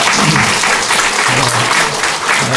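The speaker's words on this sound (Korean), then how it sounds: "큰 박수로 환영하도록 하겠습니다." A church congregation applauds steadily, dense clapping filling the space throughout.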